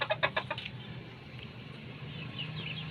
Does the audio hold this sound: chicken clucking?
yes